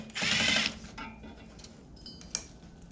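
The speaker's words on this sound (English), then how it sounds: "but that's why we got a wrench" A ratcheting wrench works a bolt on a 1970 Dodge D100 heater box during restoration, a brief bright metallic burst at the start followed by faint clicks and small knocks, close and with no talking.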